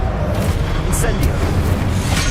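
The Incendio fire spell in Hogwarts Legacy bursts out as a loud whooshing boom with a rumbling, roaring low end, and a voice is heard over it.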